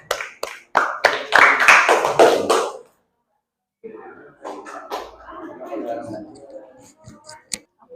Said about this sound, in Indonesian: Tepuk tangan untuk kelompok 1 dulu anak-anak.